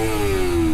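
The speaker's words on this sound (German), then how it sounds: "87 Dezibel von einem 250 Kubik Motor, dessen Schalldämpfer und dB-Killer gefühlt die Hälfte der gesamten Auspuffanlage ist" A 250cc motorcycle engine with a large muffler and dB-killer revs in a single sustained, loud, steady high-pitched note, close by, then cuts off abruptly at the end.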